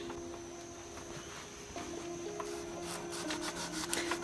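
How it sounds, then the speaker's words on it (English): A bonsai pot for a jaboticaba forest being rubbed down and cleaned, giving a close, steady rasping scrub that runs continuously with no talking. "doing the rubbing down of the pot, cleaning it up a bit"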